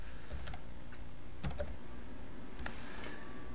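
Keys tapping on a computer keyboard while an email address is entered, a few quick bursts of clicks spaced across the moment, close and fairly quiet over a steady low background hum.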